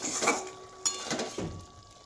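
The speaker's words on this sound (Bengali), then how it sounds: "ভালো করে নাড়াচাড়া করছি যাতে স্মেলটা খুব সুন্দর হয়" Egg curry with fresh coriander being stirred in a pan on the stove, giving a few soft scrapes and clinks of a spoon against metal, moderately close, with no talking.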